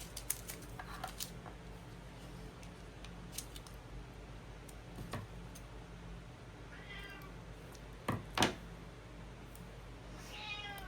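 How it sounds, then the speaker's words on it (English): A house cat meows a few times for attention. The short, fairly faint calls are spread across a quiet room, with light rustling and small handling clicks between them. "Kitty wants attention, so we're gonna stop this kitting up process once again."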